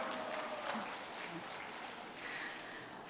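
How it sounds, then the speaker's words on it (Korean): An audience claps at a school's 100th anniversary ceremony, a soft, steady patter of applause heard from a distance at low level. "다시 한번 박수 부탁드립니다"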